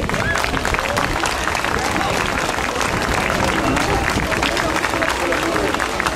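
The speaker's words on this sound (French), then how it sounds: "je vous demande d'applaudir bien fort" A festival crowd applauds at the Grand Margot 2012 outdoor presentation of the queen to the public, steady dense clapping mixed with crowd babble, loud and continuous throughout.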